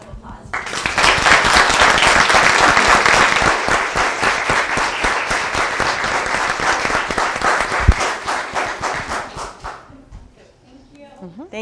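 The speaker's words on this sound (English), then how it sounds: "I want to give them, if we're okay, a big round of applause." An audience at a school board of education meeting gives a big round of applause, rising quickly into loud sustained clapping, then tapering off as a voice speaks near the end.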